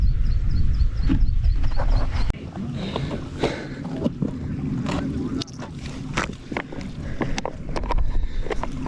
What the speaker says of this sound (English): Found the stream that they were on about.